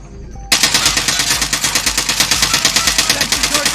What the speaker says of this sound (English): Yeah, rounds incoming.